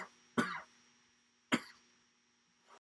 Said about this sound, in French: Une petite toux. Pardon. Une grosse toux même peut-être.